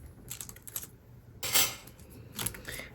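A paper trimmer cuts cardstock panels for a handmade card in quick, close, crisp snips and slides, with a louder slicing stroke in the middle, in an otherwise quiet room.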